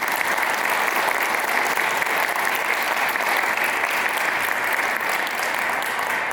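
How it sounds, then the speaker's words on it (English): Sustained audience applause for panelists at a public service forum, dense steady clapping from a full room lasting several seconds without a break. "let's give the panelists another round of applause"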